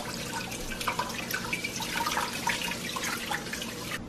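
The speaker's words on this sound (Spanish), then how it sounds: "En el agüita lo enjuagan y abren la llave." A kitchen tap runs steadily as food is rinsed under the water, giving a continuous close splashing hiss with small spatters and no voices.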